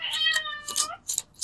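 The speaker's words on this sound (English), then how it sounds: "Can you hear my kitty?" A cat meows a couple of times up close, drawn-out rising and falling cries, with a few short breathy noises between them.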